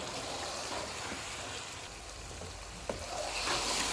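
Ground masala, fenugreek and green chillies fry in oil for balti chicken, giving a steady, moderately loud sizzle with occasional stirring scrapes and a brief knock.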